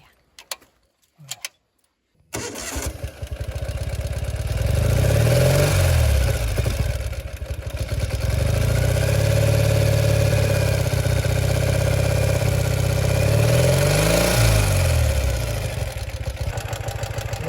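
A Ural motorbike that had not started for two weeks: a few clicks, then the engine catches and settles into a loud, steady idle, revving gently up and down twice.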